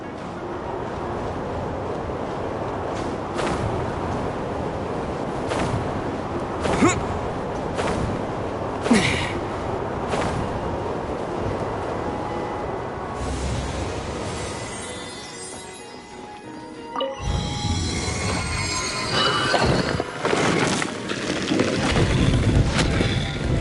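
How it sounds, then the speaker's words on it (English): Rushing wind current in the video game Genshin Impact, a steady loud whoosh with a brief dip partway through before swelling again, with no voices over it. "Let's ride this wind current, shall we?"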